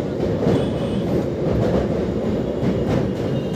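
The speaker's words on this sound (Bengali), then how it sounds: "তো এবার চলে আসলো এই ট্রেনের 7 নম্বর হোল্ড গড়িয়া স্টেশনে।" A Sealdah–Baruipur local train rolls into Garia station with a steady, loud, close rumble of wheels and carriages that holds throughout, with no voices.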